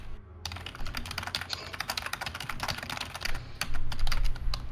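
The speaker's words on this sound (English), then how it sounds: "Furious typing." Furious, rapid typing on a computer keyboard during a live tabletop game session: dense, uneven bursts of clacking keys that build louder toward the end, with no voices.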